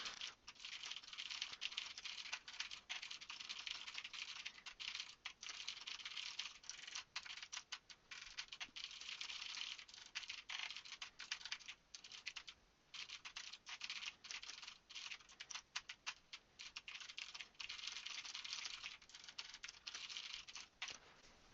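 Code is typed on a computer keyboard in a steady stream of rapid clicking keystrokes with brief pauses, fairly close and quiet, with no talking.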